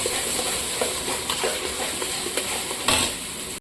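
Onion and garlic paste frying in a pan for a katla fish dish, a steady close hiss with scattered spoon scrapes and stirring clicks, no voices.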